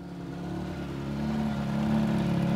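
Rally car engine droning steadily on a forest rally stage with the car stuck in fifth gear, a low sustained hum building slightly in loudness over a couple of seconds, with no voices.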